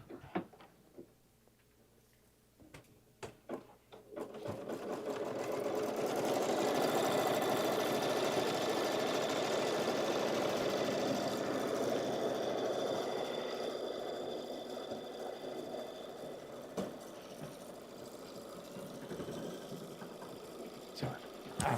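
Embroidery machine stitching a pillow design: a steady rapid mechanical whir with fine ticking, running continuously at moderate level after a few start-up clicks, with occasional louder taps.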